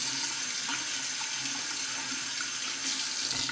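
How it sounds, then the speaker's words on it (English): Razor blade held under a cold running tap, water splashing in a steady, bright hiss that stays loud and even throughout, with a few faint knocks underneath. "I'm going to temper it under the cold water, just like I always do."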